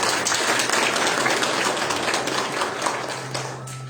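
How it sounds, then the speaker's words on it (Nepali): An audience applauds steadily and loudly at a gathering at the Krishnadham temple in Kathmandu, with sustained dense clapping that fades slightly toward the end. "आशिषजीलाई जोरदार ताली बजाइन्छ"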